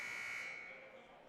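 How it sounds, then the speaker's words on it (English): A basketball game buzzer in a high school boys' gym sounds a single steady electronic tone that holds for about half a second, then fades into the room's echo. "You'll hear the buzzer here as Nicholas Wharton will inbound the ball"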